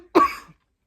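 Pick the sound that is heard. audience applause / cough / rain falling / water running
cough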